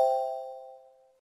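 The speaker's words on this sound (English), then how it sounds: "Select a chime and press play to listen to the sound." A single electronic chime tone from a talking bus announcement programmer plays once, a clear bell-like ding that rings out and fades smoothly over about a second, alone with no talking.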